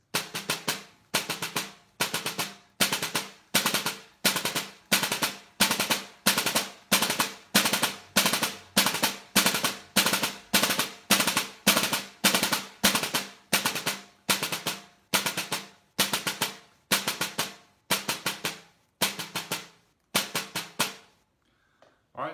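A drum plays the single stroke four rudiment at full speed, sharp strokes packed into rapid, evenly repeating bursts that run steadily for about twenty seconds before stopping abruptly.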